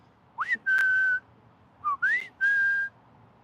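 A person whistles two matching phrases, each a quick rising slide into a long steady held note, clear and close with a pause between them.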